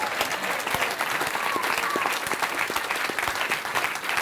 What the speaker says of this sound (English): But give yourself a round of applause.